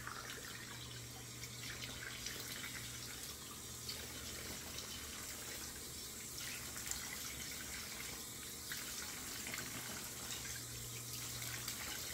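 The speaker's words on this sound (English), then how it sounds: "A little warm water and then cold water rinse." A tap runs steadily during a head-shaving rinse, warm then cold water splashing into a sink in a continuous, fairly quiet hiss and gurgle close by, with no talking.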